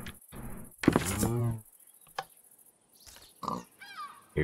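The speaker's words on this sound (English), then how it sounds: "You come with me, piggy pig." A pig in the Minecraft video game grunts in a few short, close bursts, with quiet gaps between them.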